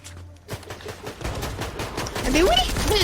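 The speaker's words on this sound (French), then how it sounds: "J'ai l'impression que ça tire de tous les côtés" Gunfire crackles from all around in a shooter game, with dense overlapping shots and bursts under steady battle noise and a rising whistling sound near the end.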